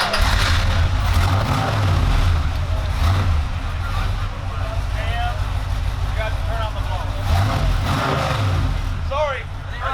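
A big supercharged muscle car revs with its blower engaged at the SEMA show, a loud, continuous engine roar that swells in repeated throttle blips while people talk over it.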